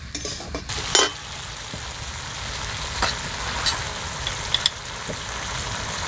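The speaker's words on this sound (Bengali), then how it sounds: "এবার এটাকে আমি ভেজে নেব, অল্প জল দিয়ে দিচ্ছি, জল দিয়ে ভেজে নেব।" Fish head frying in a pan with a little water and ginger for a rice curry, a low steady sizzle running throughout with a few sharper clinks and stirring knocks.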